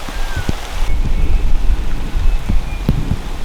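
Rain pours steadily in a Wyoming thunderstorm during an elk hunt, a loud, continuous hiss with low rumbling thunder underneath and a few sharp cracks, heard close and unbroken.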